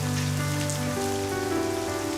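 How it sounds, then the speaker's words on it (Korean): Rain falling and pattering on surfaces, steady and fairly loud, with sustained musical tones running underneath throughout. "우연 씨, 비가 와서 데려다 주고 싶어서."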